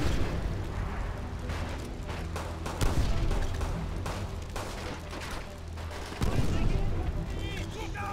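Enemy gunfire in the World War II shooter Call of Duty: World at War, a steady barrage of rifle and machine-gun shots with sharper louder cracks and blasts standing out, heard alongside someone talking.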